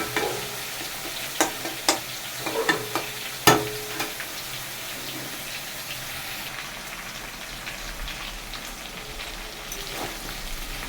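Cauliflower and small shrimp stir-fried in a wok, a series of sharp scraping and clattering stirs over the first few seconds, then a softer continuous sizzle settling in, close and fairly quiet with no talk.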